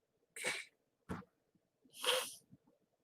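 A person with allergies lets out a couple of short, breathy sneezes and snorts, close and fairly quiet against near silence, with no talking.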